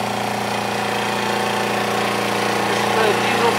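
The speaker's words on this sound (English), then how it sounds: "This is a diesel powered hydraulic drive, four wheel drive system." A diesel-powered, hydraulic-drive, four-wheel-drive crop robot runs in a field, its engine giving a steady rhythmic chugging drone at close range for the whole short stretch.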